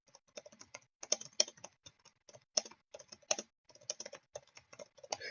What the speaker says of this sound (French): donc si je veux continuer à taper sur mon clavier